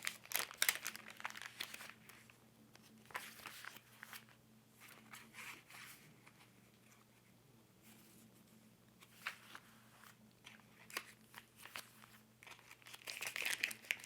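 A washed-out chip bag is crinkled and handled close up, giving soft, uneven crackles and rustles that swell and fade, with a low steady hum underneath.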